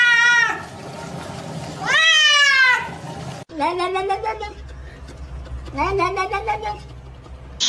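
Several loud, drawn-out cat meows, some rising and wavering like caterwauls, arrive in separate bursts with short gaps between them, over a low background rumble.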